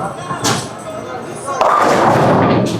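A bowling ball rolls down the lane and strikes pins hung on strings: a thud, then a loud, sustained clattering crash of pins close by.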